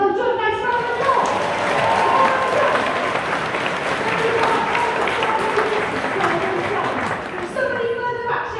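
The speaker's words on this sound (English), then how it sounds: "Well done, nice round of applause." A live comedy audience gives a round of applause, thick, continuous clapping with a few cheers, and voices chattering faintly underneath before the clapping thins at the end.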